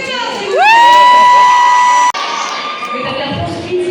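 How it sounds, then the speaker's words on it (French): Crowd at a Japan Party 2025 convention cheers loudly, led by a rising, sustained high-pitched shout that cuts off abruptly, followed by a lower murmur of crowd noise. "On les applaudit très fort,"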